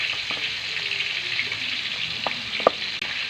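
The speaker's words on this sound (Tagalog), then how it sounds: "Ayan na, kumulo na siya." Milkfish soup with tomato, onion and ginger bubbling in a pot, a steady close hiss of simmering broth broken by a couple of faint clicks and taps.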